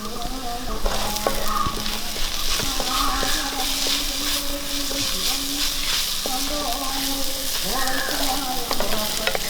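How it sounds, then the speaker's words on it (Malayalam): Curry leaves sizzle in hot oil while frying with ginger-garlic paste for a Kerala tapioca and egg dish, a steady close crackling hiss running throughout with faint stirring and no talk. "ചേർച്ചാൽ കരിയാപ്പര ഇട്ട് കൊടുക്കും"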